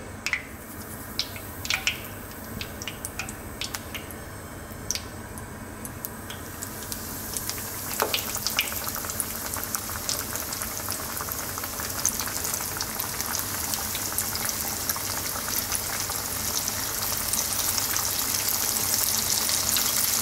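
Chicken pieces frying in oil in a pan over low, gentle heat, a steady bubbling sizzle that grows denser and louder over time, with a few clicks and clatters early on.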